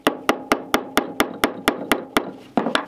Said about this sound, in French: ce que vous pouvez faire, c'est de venir prendre le clou et de taper sur sa pointe